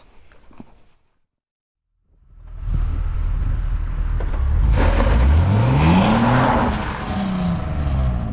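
A 2002 BMW 330Ci E46 with a ram air intake, out in freezing cold weather: a brief faint noise and a moment of silence, then the engine comes in loud and close, revving with a rising, sweeping pitch before settling into a steady drone.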